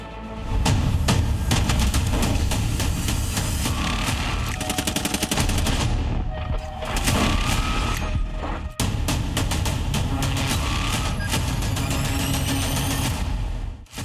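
Negev light machine gun firing in long, rapid continuous bursts, loud and close, with only a brief break between the volleys.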